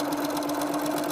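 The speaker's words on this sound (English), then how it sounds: "I'm just going to start sewing down." Sewing machine running steadily as it stitches down pieces of a 3D block pattern quilt, a close, continuous motor hum with a fast, even needle rhythm and no talking.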